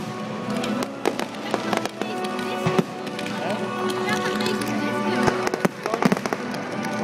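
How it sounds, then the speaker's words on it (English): A fireworks display at Shrewsbury Flower Show sends out repeated sharp bangs and crackling bursts at an irregular pace over a steady rumble, with people talking nearby. "Longdon fireworks is amazing."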